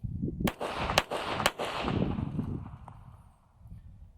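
Gunfire from a Hi-Point JCP .40 pistol: three sharp shots in quick, even succession about half a second apart, each followed by a trailing echo that fades out.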